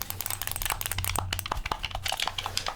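Sharp, clicky presses of a game controller's back buttons, a rapid uneven run of crisp close-up clicks with a faint low hum underneath.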